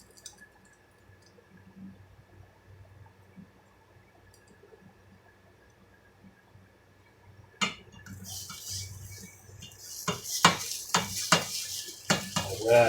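An egg frying in a pan for an eggs-in-a-basket breakfast, a quiet stretch followed by scraping and clinking of a utensil moving it around, with a soft sizzle underneath.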